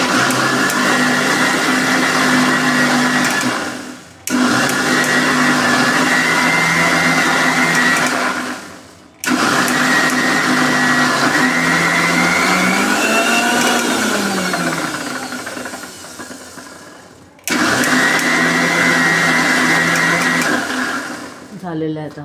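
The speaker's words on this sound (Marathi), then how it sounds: "आता हे मिक्सरमध्ये मी फिरून घेते, पूर्ण प्युरी म्हणजे करून घेते त्याची." A kitchen mixer grinder purees mango in loud bursts of steady whirring motor noise. Between the bursts come short pauses, and in one run the pitch sags as the thick pulp loads the blade.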